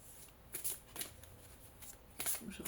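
Oracle cards shuffled by hand in short bursts, a few crisp riffling flurries separated by quiet gaps, close and alone with no talking.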